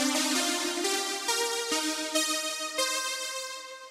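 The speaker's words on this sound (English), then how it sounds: "I made a sound in this one synth for a tune which sounds roughly like this." Analog synthesizer playing a bright, harmonically rich sequence of stepped notes, each new note entering with a sharp edge and slow fade, loud and close with no voices.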